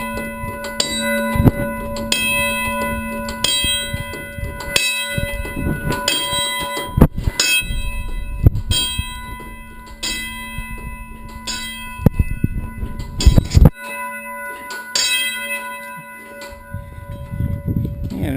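A railroad wigwag crossing signal bell rings in a steady repeated clang, fairly close, with bursts of mechanical clatter and handling noise around it.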